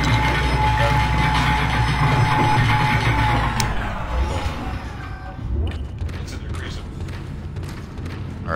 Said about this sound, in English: Elevator!